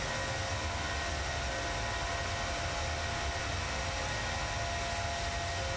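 PMDG 737-700 in Microsoft Flight Simulator during a Southwest departure, a steady broadband jet roar with a faint high whine, constant level and no voices.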